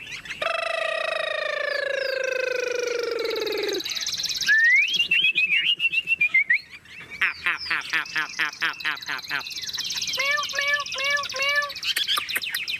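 A tame Chinese hwamei songbird sings loudly and close from its cage, moving from long sustained whistles into rapid repeated trills and varied chirping phrases, with brief pauses between bursts.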